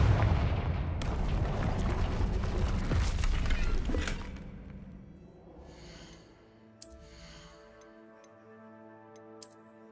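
Confringo fire blast spell in Hogwarts Legacy, a loud booming burst with rumbling crackle lasting several seconds before fading into quieter game tones and chimes.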